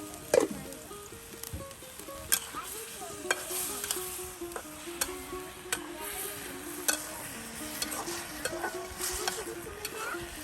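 Drumstick stalks with chapa dried fish sizzle in a pan while a utensil scrapes and stirs, giving a steady close frying hiss broken by sharp periodic clinks and scrapes.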